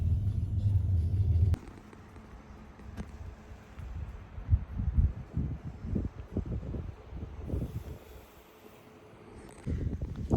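Car driving along a narrow one-lane two-way country road in rural Portugal, a steady close engine and road rumble with wind buffeting the microphone and some rustling, fairly loud throughout.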